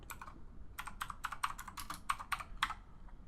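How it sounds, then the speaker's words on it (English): Keys clatter on a computer keyboard as text is entered: a quick, uneven run of close, crisp clicks with a short pause after the first few strokes, with no talking. "I'm just going to type in the golden era."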